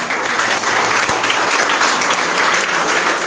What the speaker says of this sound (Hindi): चलो अपने लिए ताली बजा लो